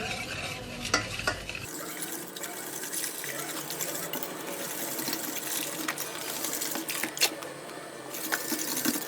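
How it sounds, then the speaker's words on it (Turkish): A whisk stirs milk steadily into dry ingredients for a turmeric cake cream, making a continuous close swishing and churning with occasional louder clicks against the bowl. "Yavaş yavaş ekleyerek çırpıcıyla iyice karıştıralım."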